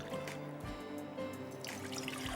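One cup of water is poured into a pan for sugar syrup in a steady trickling stream, faint and close, with small splashes and a slight rising pitch as it fills.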